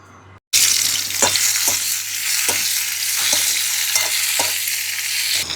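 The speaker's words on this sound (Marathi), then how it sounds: "आपल्याला कारले थोडे परतून घ्यायचे," Sliced bitter gourd sautéing in a little oil in a pan, a steady loud sizzle that starts abruptly, with a few soft stirring scrapes at intervals.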